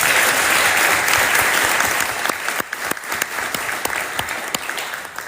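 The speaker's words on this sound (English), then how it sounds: "can we give them another round of applause?" An audience at an Oklahoma Democrats Capitol conversation on education gives the panelists another round of applause, dense and loud at first, then thinning into scattered individual claps as it dies away.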